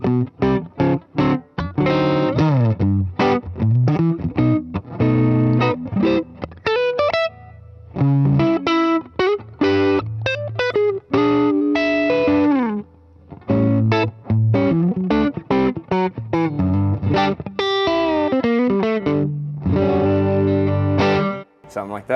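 Electric guitar fitted with a Fender Custom Shop '52 no-caster bridge pickup and a Lollertron neck pickup, played through effects and an amp: a steady stream of chords and single-note runs with brief pauses, loud and close, with no voices.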